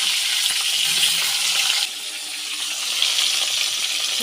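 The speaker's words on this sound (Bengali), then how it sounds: "তেলটার মধ্যে দিয়ে দেবো ফুলকপি আর আলুগুলো ভেজে নেব।" Cauliflower and potatoes fry in hot oil with a steady, loud broadband sizzle that holds throughout and dips slightly partway. No voices are heard.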